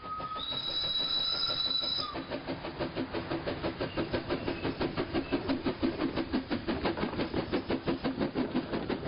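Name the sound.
locomotive climbing a gradient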